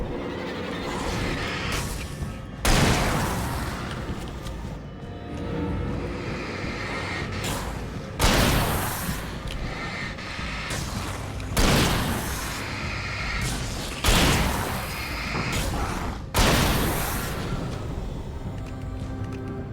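Gunfire in the video game Alan Wake: heavy, booming shots fire one at a time at roughly regular intervals, each followed by a rumbling decay over a constant dark background noise, with no talk.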